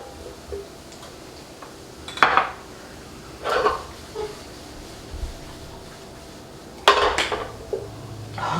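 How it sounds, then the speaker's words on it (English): Fork clinking and scraping against a plate while smoothing mashed potatoes, a few separate bright scrapes and taps at moderate level over a quiet kitchen background. "I like to just fork it down, make it look nice."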